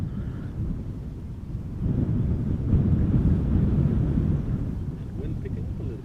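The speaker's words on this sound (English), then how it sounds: "Wind picking up a little bit." Wind blowing across an open spot at Amsterdam Schiphol Airport, a steady low rumble with buffeting on the microphone that swells louder midway and then holds.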